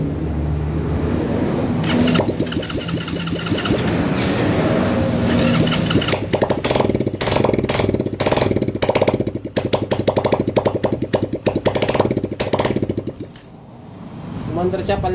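Bare engine running with a misfiring carburetor, loud and near, sputtering and uneven with rapid irregular firing pulses that surge and falter before dying down; someone talks over it.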